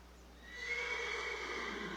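A horse at a chiropractic session lets out a loud, close whinny. It starts about halfway in and carries on to the end, over a quiet background.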